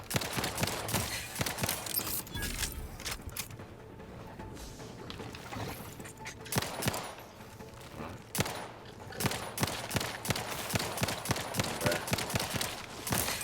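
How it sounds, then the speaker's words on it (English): Dense shotgun gunfire in the video game The Outer Worlds 2, with many sharp blasts that come quickly, one after another, in chaotic bursts across the whole stretch. Loud and close, with no voice over it. "I didn't want to use my shotgun."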